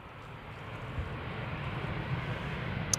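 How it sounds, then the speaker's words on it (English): A Boeing 777-200 airliner on its landing approach at Amsterdam Schiphol sends out a faint, steady jet engine rumble that builds slightly as it nears. "there's a 777-200 arriving from Guayaquil behind it, now on the glide slope and next to land on this runway"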